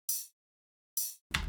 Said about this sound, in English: And then the second one is a much shorter one